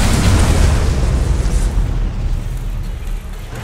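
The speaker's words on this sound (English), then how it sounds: "Nuclear missile launched." A nuclear missile explosion in the mobile video game Rivals: a loud, deep, rumbling blast that roars continuously and slowly fades over a few seconds.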